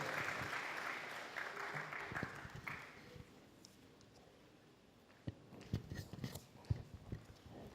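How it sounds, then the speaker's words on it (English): An audience at the launch of the Patients Bill of Rights applauds to welcome Dr. Ben Anyene. The clapping is fairly faint, denser at first, then thins into scattered individual claps. "Can we please welcome Dr. Ben Anyene with a round of applause?"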